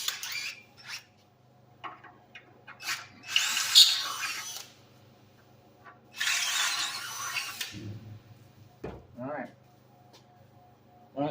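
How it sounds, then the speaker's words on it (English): A power drill bores a pilot hole in several short bursts of whining motor, broken by quiet gaps, clunks and faint workshop handling sounds. "I'm going to drill a pilot hole."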